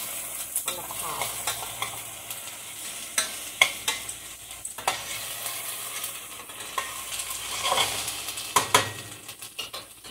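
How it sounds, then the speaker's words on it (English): Shell soup is stirred in a pot with a spoon, giving frequent close scrapes and light clinks against the metal at an irregular pace over a faint background simmer. "Just keep stirring so you won't get stuck in the pan on the pot."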